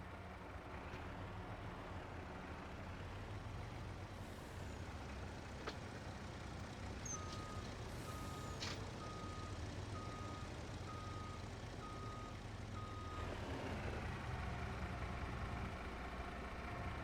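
A farm truck on a Montana farm in winter idles with a low engine rumble while a steady series of reversing beeps sounds at an even rhythm, fairly distant and alone, before the engine note rises.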